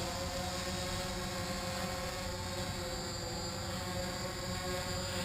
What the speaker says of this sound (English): now I'm going to move the aircraft towards the left and still doing the 360